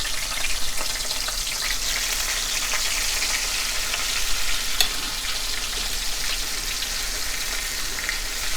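Thin slices of liver fry in a half inch of oil with a loud, continuous close sizzle and crackle and no talking.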